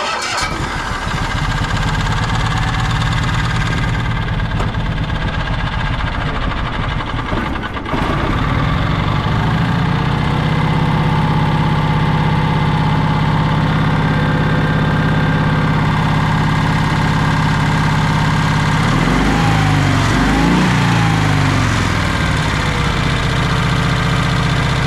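The engine of a 1965 Cushman Truckster with a custom dual exhaust settles into a steady, throaty idle. It runs close and loud from start to finish with no talk.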